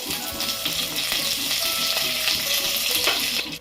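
Mustard seeds, cumin, garlic, dried red chillies and curry leaves sizzle and crackle steadily in hot oil for a sambar tempering, a loud continuous frying hiss with scattered pops throughout.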